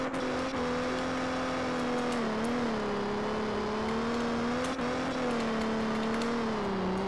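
A Mustang drifts in the video game Rebaixados Elite Brasil, its engine holding a steady, close, loud drone with pitch rising and dipping as the throttle changes.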